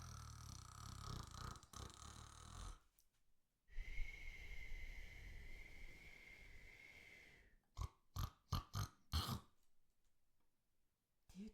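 A human voice imitates a sleeping pigeon snoring, with soft breathy snorts and throaty rasps, then a run of short rhythmic snuffles near the end, close and quiet with pauses between.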